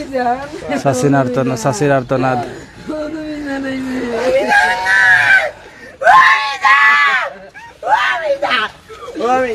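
Anguished wailing and crying from several grieving relatives in front of a morgue in Jagannathpur, Sylhet, voices rising and breaking in loud sobbing cries, with some speech mixed in.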